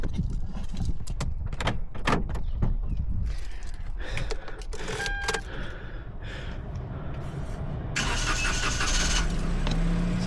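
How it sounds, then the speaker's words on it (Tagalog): A car engine cranks and starts, then settles into a steady warming idle, with door and mechanical clicks early on and a brighter hiss later, all close and with no talk. "painitin mo natin yung makina ni Sam"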